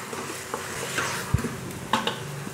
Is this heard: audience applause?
no